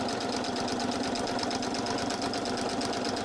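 Sewing machine stitching quilt pieces on paper, a fast, even mechanical chatter of the needle running continuously and close, with no talking.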